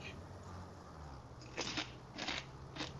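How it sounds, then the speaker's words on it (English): Crunching bites of a night snack, three short, crisp crunch bursts in quick succession over a faint steady background hum. "Crunchy sounds on the video."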